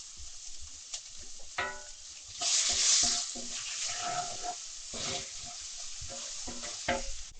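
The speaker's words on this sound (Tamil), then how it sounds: "வெங்காயம் கொஞ்சம் உப்பு போட்டு வதக்கியிருக்கேன்." Onions with a little salt sauté in a pan, giving a quiet sizzle with intermittent spatula scrapes and stirring knocks, and a brief louder hiss near the middle; no one speaks.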